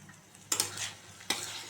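A ground spice paste frying in a pan, with a low steady sizzle broken by two sharp spatula scrapes as it gets stirred, close and fairly quiet, with no voices.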